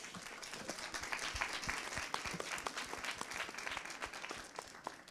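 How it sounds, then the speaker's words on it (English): A crowd applauds the mayoral candidates at a Detroit debate event, a steady dense wash of clapping sustained throughout at moderate distance. "Let's give our candidates a round of applause"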